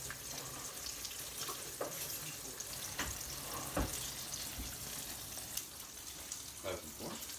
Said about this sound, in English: So these ones in the middle of frying.